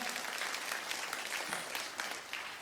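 A church congregation applauds in praise, steady dense hand clapping from many people filling the space at a moderate distance, with no speech over it.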